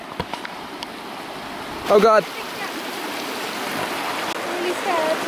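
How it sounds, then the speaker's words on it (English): A car fords a river on a rough mountain route near Juta, Georgia, with a steady rushing, splashing wash of water throughout and a brief louder surge partway through as someone exclaims. "we got a fun river crossing here."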